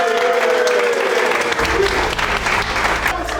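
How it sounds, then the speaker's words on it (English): A crowd gathered for a football league launch claps and cheers loudly to welcome a special guest, a dense continuous wash of applause with a low rumble joining partway through. "So please give him a round of applause for a special guest as well."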